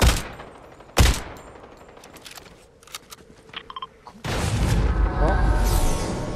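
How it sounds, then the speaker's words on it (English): Fortnite gunfire: a loud shot opens, then scattered quieter bursts and clicks, and a dense stretch of rapid fire and explosions closes out the moment. "I'm shooting you."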